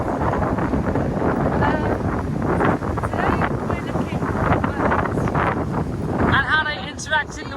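Strong wind gusts buffet the camera microphone outdoors, producing a constant loud rumbling roar with surging peaks, and a voice speaks faintly beneath it.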